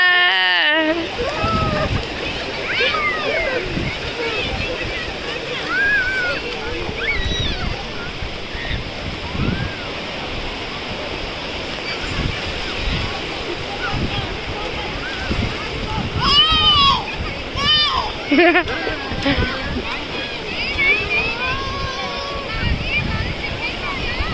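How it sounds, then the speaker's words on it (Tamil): A small child splashes and plays in the water during a Mumbai to Goa trip, with irregular splashes over steady wave and wind wash, and voices calling and chattering throughout. "தண்ணியில் விளையாட விட்டோம்"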